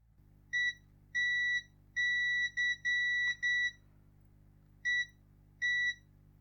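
A multimeter on continuity test beeps in short and longer tones, some in quick bursts, with pauses, as probes touch a small metal bar inside a broken micro arcade game under repair, over a steady low hum.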